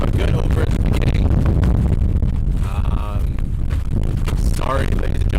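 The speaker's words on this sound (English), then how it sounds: "It's very windy out here." Strong wind buffets the microphone outdoors at a cricket league match, a loud, continuous low roar with gusty surges throughout, and a commentator's voice speaking faintly under it.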